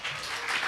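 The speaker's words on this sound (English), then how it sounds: "Give some applause to them." A crowd at a startup demo day claps, a brief burst of dense applause heard from within the room, steady and moderately loud.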